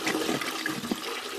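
A water saver toilet flushes in a children's iPad game, a short, continuous rushing swirl of water heard close and clear without any voices.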